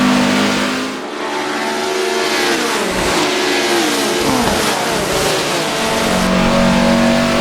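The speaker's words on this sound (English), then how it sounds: "Bit of wheel spin off the line, but a great launch there." Race car engine in the Assetto Corsa racing game revving hard off the start line with some wheelspin, loud and continuous with rising pitch as the car launches, other cars audible around it.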